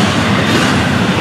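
An intermodal freight train rumbling steadily past up close, with a continuous clickety-clack of wheels on rails and a dense, loud roar throughout.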